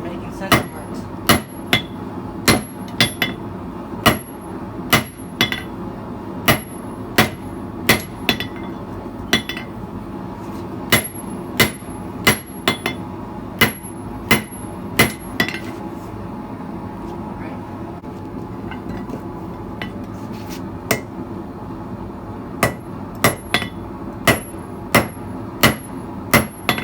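Hammer striking a steel center punch to make center marks, sharp metallic taps repeated at an uneven rhythm close up, some in quick pairs, over a steady workshop hum.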